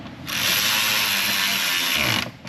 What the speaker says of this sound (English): let's bolt the shroud back to the radiator